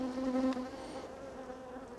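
Honey bees buzz steadily around an open hive being inspected, a close, loud droning hum with a strong tone early on that eases slightly as it continues.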